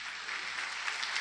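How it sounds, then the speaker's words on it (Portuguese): A church congregation applauds hard during a Portuguese-language worship service, a dense, steady wash of clapping that fills the short moment without any voice on top. "Aplauda bem forte ao Senhor"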